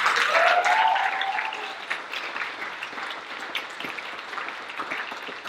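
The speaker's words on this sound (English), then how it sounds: "So give them a round of applause." A theatre audience at a production of A Midsummer Night's Dream breaks into applause, starting loud with a brief cheer and tapering into softer, scattered clapping.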